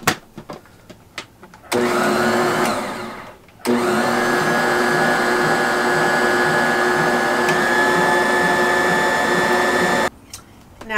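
An electric mixer beating cheesecake batter, a loud steady motor whine running in two long bursts with a short pause between, close up, and quiet handling before and after.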